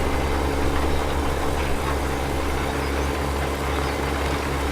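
Steady drone of a tractor engine in Farming Simulator 17, idling low and continuous with a constant deep hum, loud and unbroken throughout.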